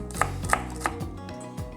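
A knife chops vegetables such as bell pepper, onion and celery on a board, with five or six distinct close thuds spaced about a third of a second apart.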